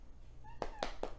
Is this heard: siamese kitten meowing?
yes